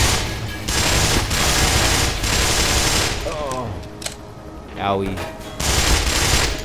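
Bursts of rapid gunfire in the Black Mesa shooter game crackle loudly in several volleys separated by quieter gaps, while someone speaks briefly between them.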